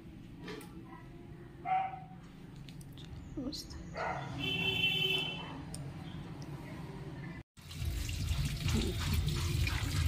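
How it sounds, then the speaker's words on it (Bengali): Water running from a household tap, a continuous rushing stream near the end, with a dog barking and someone talking over clattering household sounds earlier. "জল পড়ে যাচ্ছে।"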